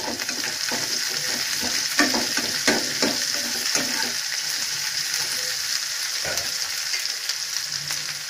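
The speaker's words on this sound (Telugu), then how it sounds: "ఈ మొత్తం ఫ్రై అయిన తర్వాత ఈ తాలింపులోకి డీప్ ఫ్రై చేసిన బెండకాయలు వేసి కలుపుకోవాలి." Deep-fried okra tossed into a sizzling tempering and stirred in a pan, with a steady crackling fry and repeated scraping stir strokes, close and fairly loud, without talk.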